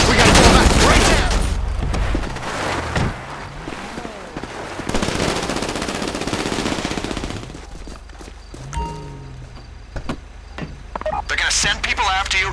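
Heavy gunfire rips out in bursts during an Insurgent LAPV Mark III integrity test in GTA Online, with loud automatic volleys and sharp single shots and quieter gaps between. Game voices talk over parts of it.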